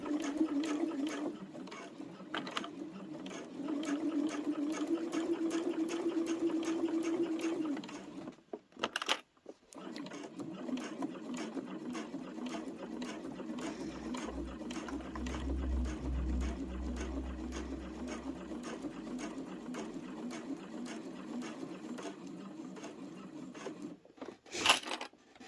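A sewing machine stitches a rotary cutter pouch in a steady, fast whirring hum, pausing briefly twice with clicks and a low thump before running on, close and alone.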